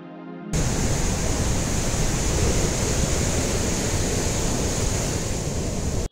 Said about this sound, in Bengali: কি বড় বড় ঢেউ!